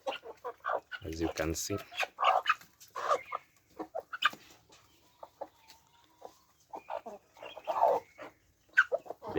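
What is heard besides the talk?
chickens clucking on a kienyeji chicken farm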